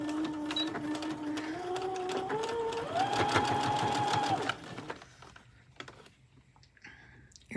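A sewing machine stitches through vinyl in a fast, steady mechanical run that shifts pitch as it speeds up, then stops, leaving a few faint clicks and handling noises.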